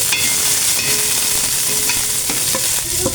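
Garlic and ginger frying steadily in a pan for a sinigang broth with barracuda head, a loud continuous sizzle with occasional scrapes of stirring and no talk.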